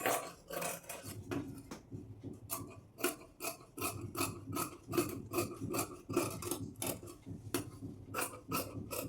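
Scissors cut blouse fabric along a drawn belt shape, making a steady rhythm of close, crisp snipping and rasping strokes that continues without pause.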